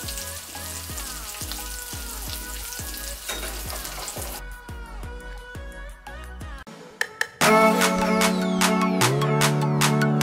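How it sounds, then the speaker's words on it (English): Loud, steady sizzling and crackling of breaded vegan chicken frying in hot oil, close up, with a sharper burst of spattering toward the end. "And then you put it into your oil for frying."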